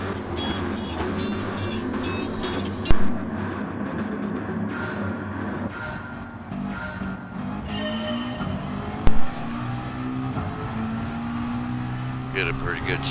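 Race car engines drone steadily in a Group 4 racing video game at Kyoto Driving Park, sustained harmonic engine tones rising and shifting through gear changes across the whole stretch, with a couple of brief louder bumps.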